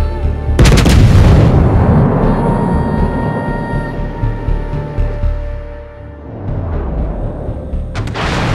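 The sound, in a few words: ship gunfire in World of Warships video game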